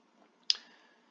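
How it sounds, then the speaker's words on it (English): A single sharp computer mouse click during an online biology lesson, close and isolated against near silence, with a short fading tail. "You're going to click on this."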